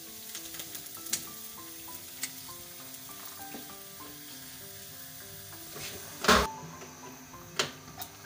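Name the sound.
chicken frying in onion and garlic-ginger paste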